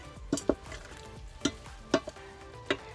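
Spoon stirring spaghetti ingredients inside an Instant Pot, a few separate scraping clinks and knocks spread over a few seconds, close and fairly quiet, with no talking.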